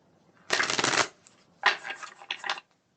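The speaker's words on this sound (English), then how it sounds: "Cards. One more shuffle." Tarot cards shuffled close up in quick riffling bursts, one long riffle followed by two shorter ones, with no talking.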